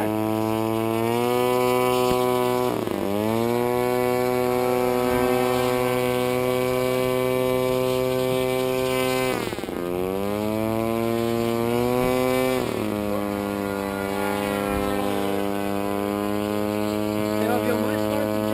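A small RC paper airplane's electric motor whines steadily at close range, its pitch dipping and climbing again twice as the throttle changes during takeoff by a river, with people talking faintly in the background.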